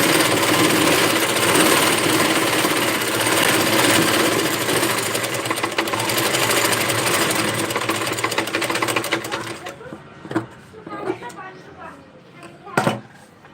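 A sewing machine stitches a saree blouse in rapid, steady clattering bursts for about ten seconds, then stops, leaving brief handling noises and short spoken words.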